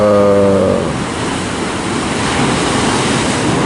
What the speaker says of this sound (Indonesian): Lihat ombaknya semakin naik ya teman-teman ya.